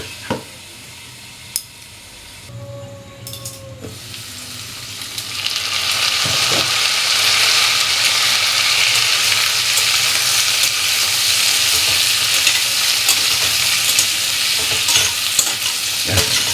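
Fish sizzles in hot oil in a pan with a steady, loud frying hiss, after a few metallic clinks of stirring and a lid or utensil at the start.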